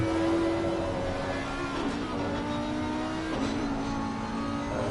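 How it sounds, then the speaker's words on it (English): An Audi race car engine in a racing video game revving hard through the Parabolica at Monza, a sustained loud, high-pitched engine wail with pitch shifts as it changes gear. "the identical engine of the Audi sings its heart out through the parabolica"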